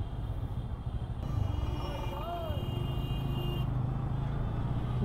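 Congested road traffic heard while riding a motorbike through a jam, with a steady low engine and traffic rumble, brief horn-like tones and passing vehicles, all at moderate, continuous loudness.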